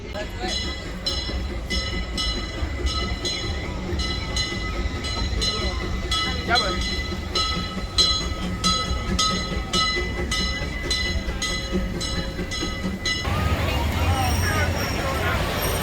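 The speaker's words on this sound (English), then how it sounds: "Oh, the sound of the train is nice." A Disneyland theme park train runs steadily with a rhythmic clatter of wheels over rail joints, loud and close, and a shift in the rumble near the end.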